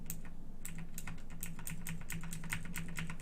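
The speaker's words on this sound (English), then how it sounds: "That's on my green switch keyboard." Rapid typing on a mechanical keyboard with green switches, a quick run of crisp, sharp clicks in an uneven rhythm, close up and fairly quiet over a low background hum.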